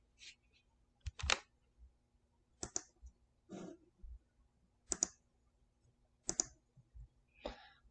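Several sharp mouse clicks at a computer desk while working in Excel, spaced about a second apart, close and fairly quiet with faint room noise between them.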